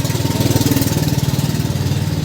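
A 2004 Farmtrac 60 double-clutch tractor engine runs at a Punjab tractor market in Malout, a loud, steady, pulsing diesel throb idling close by.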